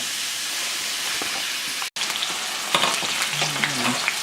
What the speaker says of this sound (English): We got our chicken sizzling up in our pan.